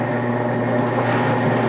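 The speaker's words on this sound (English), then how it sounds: "make sure that you start the blender off at low because you don't want it splashing up" A kitchen blender switched on at its low speed setting gives off a steady, fairly loud motor whir with a constant low hum throughout, with no voices.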